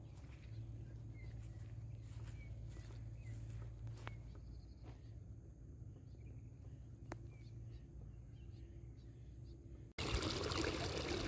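Irrigation water from a mountain-stream channel runs through pipes in a Chiang Rai vegetable garden, a steady close trickle and pour with birds chirping now and then and a brief louder rush near the end.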